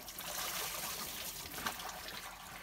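Water splashing and trickling steadily as it is scooped from a bucket for a shower on deck of a sailboat at sea, close and continuous without a break.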